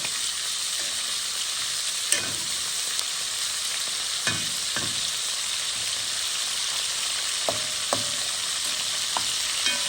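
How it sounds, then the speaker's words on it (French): Boucané smoked pork fries with onions in a frying pan, a dense continuous sizzle with occasional spatula scrapes and clinks, close and steady throughout, no voices. "Je mélange toujours le boucanier avec les oignons"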